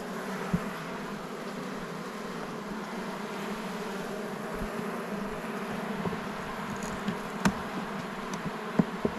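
Bees buzz steadily around an open hive during an inspection in the green hive, a dense continuous drone with occasional louder individual bees passing close, no talking.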